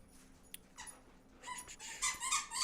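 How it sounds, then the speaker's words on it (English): A dog plays with a squeaky toy, giving a few scattered squeaks at first and then a run of louder, quick high squeaks, heard alone against a quiet background. "Oh no, the dog found a squeak toy."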